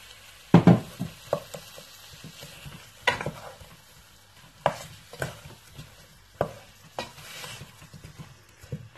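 Food fries in a pan while being stirred and mixed, soft sizzling underneath repeated scraping strokes and clacks of a utensil at an uneven rhythm, close and moderately loud.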